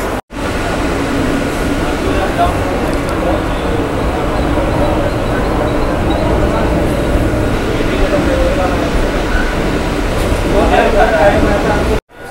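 A Mumbai local train heading toward Kurla on a quiet Sunday rumbles steadily along the tracks, with loud constant wheel and carriage noise and faint clatter, heard from inside the coach while someone talks over it.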